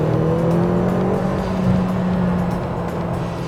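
A 2021 McLaren GT sports car engine roars loud and close in a sustained, steady rev with a throaty drone, no voices over it.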